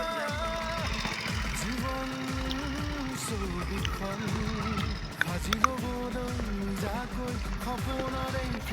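A motorbike with a punctured tyre being ridden, its engine close and uneven, repeatedly rising and falling in pitch with a rough, throbbing note and a couple of sharp knocks.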